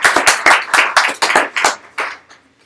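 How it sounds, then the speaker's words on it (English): A small audience at a UX design meetup gives a round of applause: a loose run of distinct, close hand claps that thins out and fades away after about two seconds. "let's give them a round of applause"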